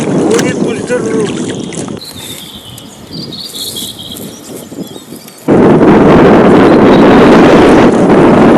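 Strong wind buffets the microphone on a river during spring flood net fishing from a boat, roaring loudly in uneven gusts that ease mid-clip and then surge back hard.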